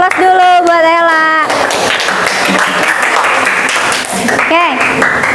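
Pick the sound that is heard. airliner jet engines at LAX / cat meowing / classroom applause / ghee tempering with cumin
classroom applause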